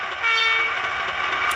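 Air horn of a Hornby class 31 model diesel locomotive with DCC sound fitted, a steady sustained horn tone held for the whole moment, loud and close with no talking.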